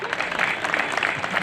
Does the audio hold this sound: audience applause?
yes